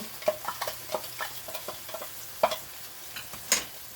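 Frozen corn, just under two cups, cooking in a pan, with a soft steady sizzle under repeated light scraping and stirring taps, close and fairly quiet.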